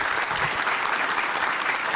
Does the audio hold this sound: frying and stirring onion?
no